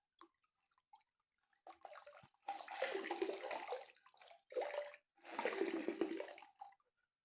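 A saree is rinsed and pressed in water, making several splashing, sloshing bursts separated by brief pauses, close and moderately loud.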